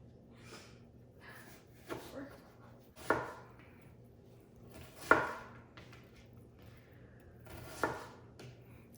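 A knife cutting pork for green chili on a board, several separate sharp chops and thuds spaced irregularly over quiet background, close by, with occasional breathing and brief talk between cuts.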